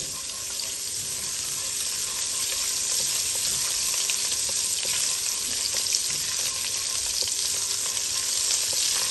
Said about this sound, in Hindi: और सबसे पहले हम इसमें लहसुन का पेस्ट जो है वो डाल देंगे फ्लेम हाई कर लेंगे और इसको अच्छे से भुनेंगे